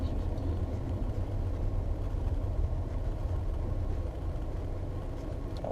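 A manual-transmission car sits stopped in neutral after a heel-toe downshift sequence, its engine idling with a steady low rumble close by, no voices over it.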